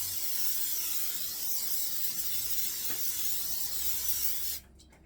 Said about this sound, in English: is going to spray our pans